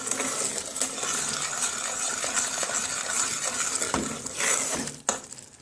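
Cornstarch and milk being stirred in a cup for a rum sauce, a spoon clinking and scraping against the sides in a soft, continuous swirl that ends with a few sharper taps.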